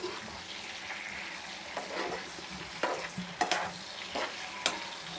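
Chicken pieces sizzle and crackle in hot oil, with a few clattering stirs and scrapes of a utensil in the pan, close and moderately loud.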